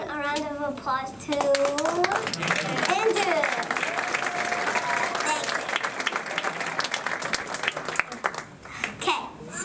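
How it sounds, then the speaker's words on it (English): Audience applause at a magic club show, dense and sustained clapping with a few children's voices and some chatter mixed in, fairly close and steady for several seconds before fading as talk resumes. "please give everyone a round of applause"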